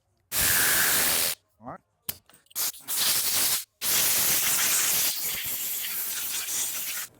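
Compressed air blasting dirt out of nooks inside a machine, several loud close bursts of hissing spray, then a longer sustained blast, with a brief spoken remark between bursts.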